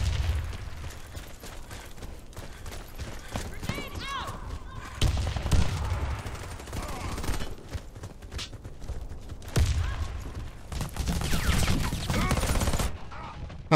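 Bursts of automatic gunfire and weapon mechanisms from the video game Warface, played on Xbox One, come in clusters of rapid shots with short gaps, fairly loud and close, with a voice speaking between the bursts.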